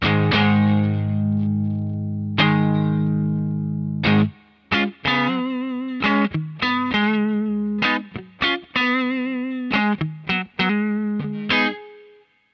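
Electric guitar with a humbucker pickup played through a Peavey Bandit Silver Stripe amp, T dynamics turned fully down, gritty and lightly distorted, with a sustained chord followed by choppy, rhythmic stabs and short riffs, loud and close with no talking.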